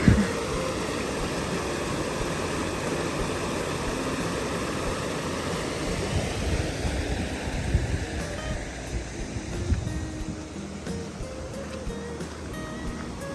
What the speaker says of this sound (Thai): ฝนลินแรงแล้วอะ